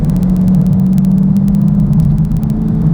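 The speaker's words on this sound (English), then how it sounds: "Car sounds phenomenal" Steady, loud engine rumble from a 2016 Dodge Charger Scat Pack while driving on a winding road with blind corners, a deep continuous drone holding even throughout with no talking.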